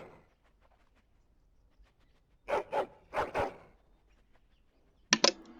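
A few short barks from a hound in the video game Dragon Age Origins, heard as two loud paired bursts in the middle and a sharper double yelp near the end, with quiet pauses between.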